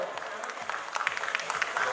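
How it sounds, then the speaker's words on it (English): Applause at a felicitation ceremony for Shivansh Tomar, the AIR 1 student selected at IIT Kharagpur, quick scattered claps close by with a low murmur of voices underneath. "Let's hear a huge round of applause for Shivansh Tomar."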